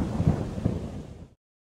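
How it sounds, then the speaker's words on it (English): Thunderstorm sound effect: a deep, loud rumble of thunder with rain texture, rolling for just over a second before cutting off abruptly into silence. "Then, one day, a terrible storm came."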